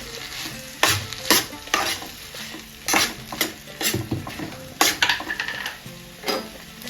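Rice tossed into hot oil is stirred in a pan for coriander rice, with repeated scraping and clinking of a spoon against metal over a steady sizzle, close and fairly loud.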